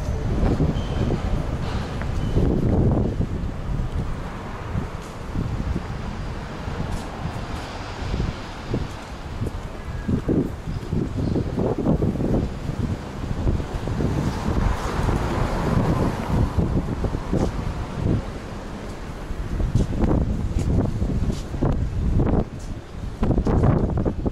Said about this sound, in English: Windy here as well.